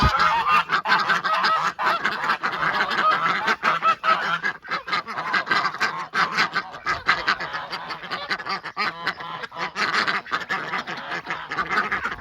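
Farm ducks quack and honk in a loud, dense chorus at morning feeding time, a continuous close clamor with flapping and scuffling throughout.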